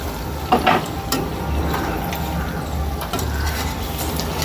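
Eggplant fritters (beguni) fry in hot oil with a steady, close sizzle, joined early on by a couple of brief clinks and stirring noises.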